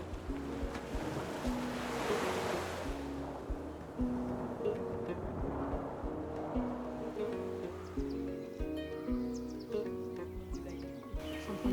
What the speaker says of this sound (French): Nous voici en bord de mer.